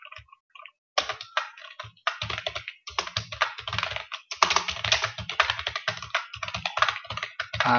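Rapid bursts of keystrokes on a computer keyboard as a parameter name is typed into a Qt report designer, clicking in quick uneven runs with short pauses between words, close and fairly loud.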